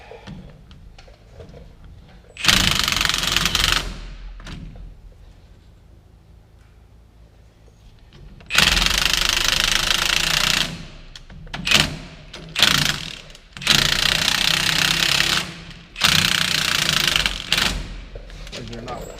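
Bursts of ratcheting and impact-style tightening on the bolts of a rear axle lift block on a third-generation Ram 2500 pickup, loud and close, several separate runs with quieter pauses between them.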